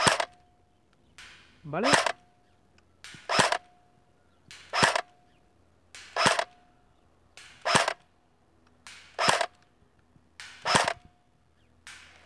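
Jing Gong AK47 tactical airsoft rifle fires single shots at a target 45 meters away, about nine sharp cracks spaced a second or so apart, with someone speaking briefly at the start.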